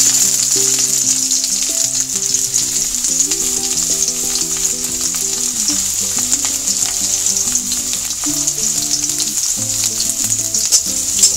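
Steady, loud sizzling of bitter gourd pieces frying in hot oil without salt or turmeric, with occasional stirring and clinks over a constant hiss, no voices.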